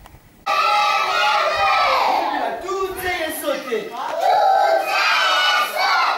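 Many children shouting and yelling together in a school classroom, a loud, dense wall of young voices that starts abruptly and stays steady, with some rising cries.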